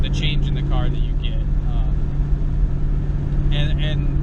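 A Ford Mustang fitted with a Roush X-pipe and axle-back exhaust rumbles in a steady, deep idle under someone talking close by.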